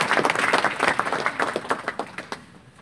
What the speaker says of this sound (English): Do you want to clap for Carol?